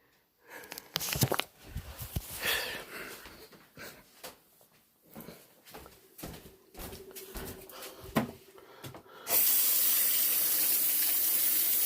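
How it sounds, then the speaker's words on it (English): Paint-laden sponge handled and squeezed under a tap, with scattered splashes and drips, then a loud steady stream of running water near the end; a bird coos faintly in the background. "it's getting to that time to rinse out my sponge"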